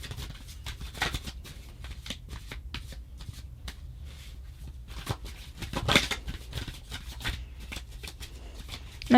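A deck of cards being shuffled up close, with repeated riffling bursts and soft flicks and slaps in an irregular rhythm, with no talking.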